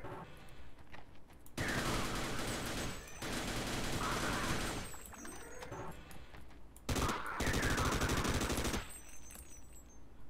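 Rapid automatic gunfire in the co-op shooter game Sven Co-op, loud sustained bursts broken by short pauses, with no talk over it.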